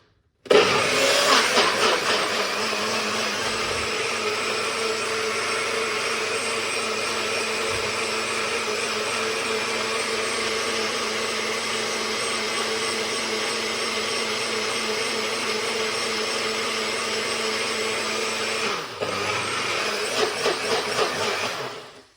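A blender blending watermelon juice whirs loudly and continuously for about twenty seconds, a steady motor roar that starts abruptly and cuts off near the end.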